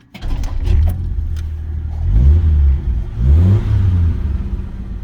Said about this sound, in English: I'm going to shut this car off and restart it so you can see how easily it starts.